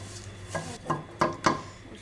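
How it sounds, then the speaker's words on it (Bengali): Vermicelli being fried and stirred in a pan, four soft scraping knocks of a spoon against the pan at a slow irregular pace over a faint background, close and quiet with no talk. "এখন আমার সেমাই ভাজা হয়ে গেছে"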